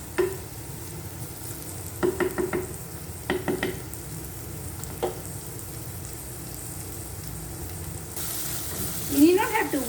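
Fenugreek seeds (vendhayam) crackle in hot oil in a claypot for fish head curry. A constant sizzle runs under clusters of spoon clatter, and a louder rush of frying swells near the end.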